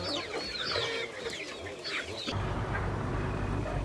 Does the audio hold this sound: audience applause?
no